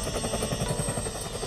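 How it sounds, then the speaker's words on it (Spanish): A rocket-armed helicopter thunders overhead with steady rapid rotor thumping, loud and continuous throughout. "un helicóptero armado con cohetes sobrevolara el emplazamiento"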